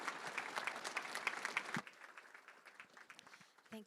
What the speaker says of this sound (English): If we can give him a round of applause.